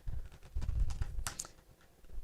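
Paper iris shape being die-cut, heard as a series of soft clicking, crunching taps and a brief bright crackle close by, with no talking.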